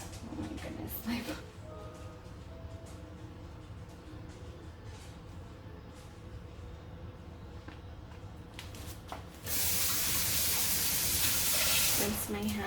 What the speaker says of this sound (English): Rinse my hands here